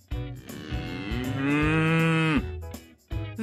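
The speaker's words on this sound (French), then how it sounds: "Vache." A farm cow gives a long, loud, close moo that swells and holds for over a second before dropping off, framed by shorter low grunting calls alone with no talk.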